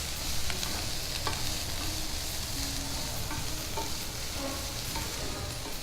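Curry leaves, garlic and ginger sizzle steadily in hot oil for a prawns pepper masala, a continuous close, fairly loud frying hiss with occasional stirring clinks and no talking.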